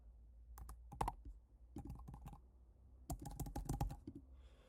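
A Stripe test card number is typed on a computer keyboard in quick bursts of close, crisp key clicks, with short pauses between the clusters and no voices.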